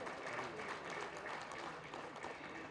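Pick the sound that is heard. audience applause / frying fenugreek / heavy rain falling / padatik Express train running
audience applause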